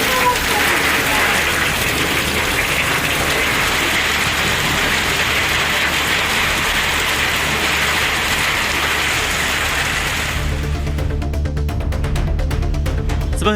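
Heavy rain driven by strong wind, a dense steady roar of downpour that fills the whole stretch and carries on unbroken, with a low rumble underneath.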